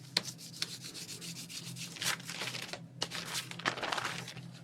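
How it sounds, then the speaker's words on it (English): A bone folder pressing and rubbing down on paper over a gel plate print, giving close, scratchy rubbing strokes in several bursts with short pauses between them. "Give that a good press down with my bone folder"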